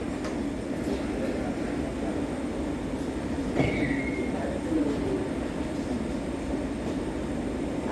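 A Thameslink Class 700 electric train running through the London Thameslink corridor, heard from onboard as a steady broad rumble and hum with a brief higher whine midway, constant and moderately loud throughout.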